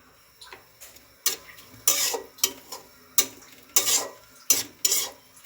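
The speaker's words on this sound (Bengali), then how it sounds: "এখন পেঁয়াজটাকে আমি ভেজে নিব।" Onions being stirred in a pan on a stove while cooking dried Boal fish, with a series of scraping, clinking spatula strokes in an irregular rhythm over a faint background sizzle, close and fairly loud.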